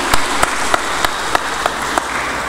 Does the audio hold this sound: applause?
yes